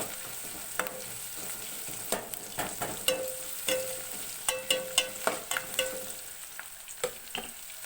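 Chicken with turmeric is stirred in a hot frying pan: soft steady sizzling under irregular scraping and clinking strokes of a spoon against the pan, close and fairly quiet, with no talk.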